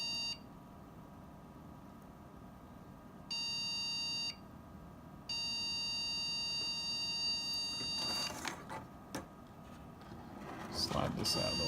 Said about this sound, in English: But we're back to beeping.